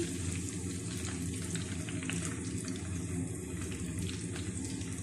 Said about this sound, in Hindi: अब बाकी की भी फ्राई कर लेते हैं